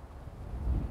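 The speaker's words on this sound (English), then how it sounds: "Very windy today, very," Strong wind on a golf course buffets the microphone in low, rumbling gusts that swell toward the end of the second, with no talking.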